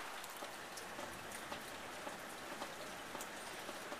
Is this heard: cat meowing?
no